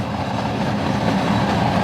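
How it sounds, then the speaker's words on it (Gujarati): The old Veraval–Junagadh passenger train rolls past close by in the Sasan Gir area, a loud continuous rumble of wheels and cars with faint rhythmic clatter, steady throughout with no talk. "ઓ એ ટ્રેન આવી."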